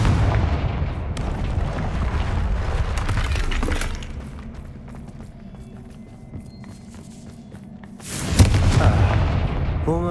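Confringo fire spell explosions in the video game Hogwarts Legacy: loud crackling blasts at the start, a quieter lull, then another sharp explosive burst near the end.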